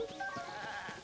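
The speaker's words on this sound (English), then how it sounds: "Oh, there's a goat. Several of them." Several goats bleat softly in Zelda: Tears of the Kingdom, a few short wavering calls in quick succession over faint game ambience.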